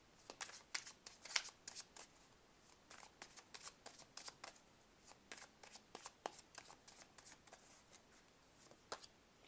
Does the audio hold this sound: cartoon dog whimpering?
no